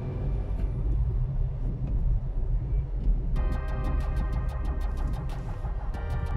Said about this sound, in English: in third gear without any lag or hiccups, the car actually pulls very nicely